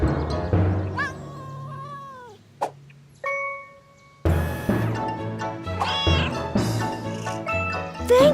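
A cartoon cat gives drawn-out, pitched meows and caterwauls with bright synthetic tones and a chime, followed by busier cartoon effects and more cat cries.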